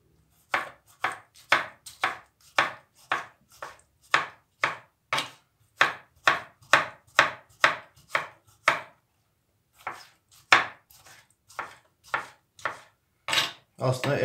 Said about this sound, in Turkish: Domatesleri de küp küp doğrayacağım.